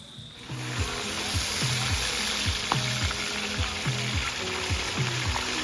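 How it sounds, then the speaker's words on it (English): Fish drops into hot oil with browned garlic, pepper and thyme, frying outdoors beside a river; a steady close sizzle and crackle runs throughout, with a constant high hiss and rhythmic low tonal sounds in the background. "as soon as the garlic start to get a little bit burn, turn brown, the pepper start to get brown, thyme get brown, it's time to drop in the fish"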